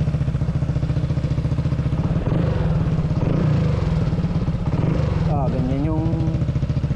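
A Honda ADV160 scooter with a BSM powerpipe exhaust and silencer fitted idles close by with a steady, rapid, pulsing putter throughout, while a voice briefly speaks over it near the end.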